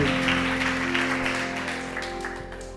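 A church congregation applauding in a steady, dense wash of clapping that fades slightly toward the end, with a sustained tonal hum beneath.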